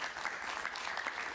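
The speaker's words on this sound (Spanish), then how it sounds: "Un aplauso para él, por favor" A brief burst of dense studio-audience applause for Enrique Capriles at a television interview, many hands clapping in a steady, bright patter with no speech.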